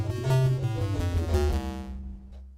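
A diatonic scale built from stacked fifths in 12-tone equal temperament, played as a sequence of clear, sustained harmonic tones stepping through the notes, ringing out and fading toward the end with no voices.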